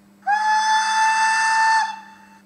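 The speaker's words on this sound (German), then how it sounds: "F2 ist der Pfiff lang." A long, loud, close locomotive whistle from the sound decoder of a Fleischmann H0 BR 141 DB AG electric locomotive model sounds as one sustained, bright tone for about a second and a half, then cuts off and fades.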